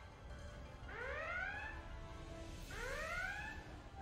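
A starship red alert alarm in the Star Trek: Resurgence video game sounds twice: two rising, whooping electronic tones, each lasting about a second, over a steady low ambient rumble.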